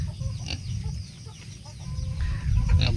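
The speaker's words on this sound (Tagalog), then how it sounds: "Daming manok guys." Chickens on a farm cluck in short, scattered bursts over a constant low rumble, with several birds calling near and a louder squawk near the end; a pig may be faintly mixed in.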